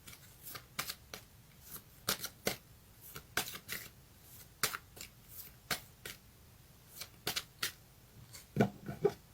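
Tarot cards are shuffled by hand, giving a quiet series of crisp, irregular riffling and slapping bursts, close and alone, without speech.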